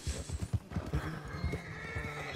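Horse in Red Dead Redemption 2 snorting and whinnying over a steady clip-clop of hooves, close and moderately loud throughout.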